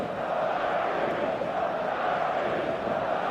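Stadium crowd noise from an eFootball match on a clear evening, a steady, dense roar of many voices holding at an even level throughout, with no distinct talk standing out.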